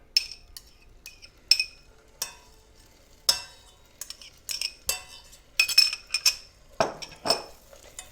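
A spoon stirs the last bit of butter into homemade caramel sauce in a pot, sounding as repeated close metallic clinks and scrapes against the pot in an uneven rhythm, with no talking.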